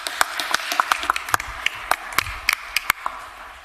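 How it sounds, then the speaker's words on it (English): Sparse, uneven clapping from a county commission meeting audience, a few hands striking at irregular intervals, fairly close and thin rather than a full ovation. "Okay, let's give him another round of applause."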